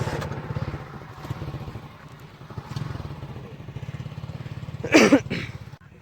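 A motorcycle engine runs steadily nearby at a cricket ground, a low, even throb that fills the whole stretch, with a sharp clatter or bang near the end.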